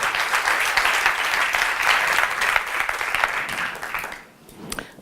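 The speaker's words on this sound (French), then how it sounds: "On accueille, et vous avez le droit de les applaudir" Audience applause greets the speakers arriving for an evening panel on sustainable marketing: dense, steady clapping from a crowd fills about four seconds, then quickly thins to a few scattered claps at the end.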